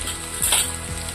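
A medium tomato sautéing in a pan for a corn curry, giving a continuous close sizzle with a couple of spatula scrapes and stirs breaking through, no voices.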